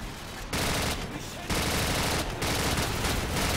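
Automatic gunfire in Call of Duty 4 single player, loud dense bursts with brief pauses between volleys, close and continuous.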